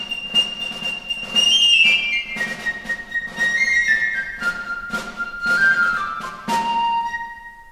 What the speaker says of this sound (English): She's played by Sharon on the piccolo and Sam on the snare drum